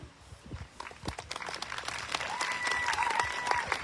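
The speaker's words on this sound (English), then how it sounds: "Let's hold our applause till we recognize everybody." Commencement audience applause that starts scattered and builds into steady clapping, with a voice carrying faintly over it near the end.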